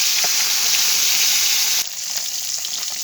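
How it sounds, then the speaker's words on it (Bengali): Small mini fish fry in hot oil in a pan and are turned over, giving a loud, steady sizzle that drops noticeably in intensity partway through as they are flipped. "তাই মাছগুলো এখন আবার উল্টে পাল্টে দিচ্ছি"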